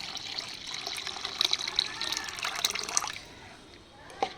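Water soaked for a day with chana dal pours out in a steady trickle with scattered splashes, close and moderate, quieter toward the end with one last drip.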